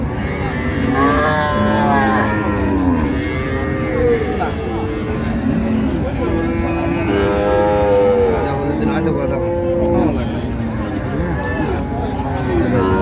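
Cattle lowing repeatedly at the Raniganj livestock market, several overlapping moos of varying pitch from cows and calves, close and continuous with a crowded background murmur.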